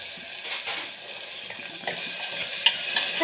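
Tomato, onion and chili sizzle in hot tempering oil with asafoetida and curry leaves for a village-style khichdi, a steady close crackle broken by a few sharp stirring scrapes and clicks.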